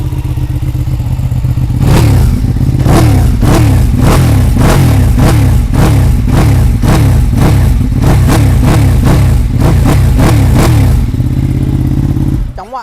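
A Ducati Panigale 959 with an aftermarket exhaust revs hard at close range, firing about a dozen loud, rhythmic throttle blips in quick succession before the engine cuts off sharply at the end.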